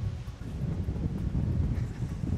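Strong wind blowing outdoors, a steady broadband rush with low gusting rumble buffeting the microphone, continuous and fairly loud throughout with no voices.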